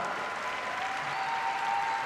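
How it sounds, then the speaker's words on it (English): An arena crowd at a figure skating championship gives steady, continuous applause for a skater at centre ice, heard as an even wash of clapping throughout. "Moving to centre ice now to take the applause, much deserved"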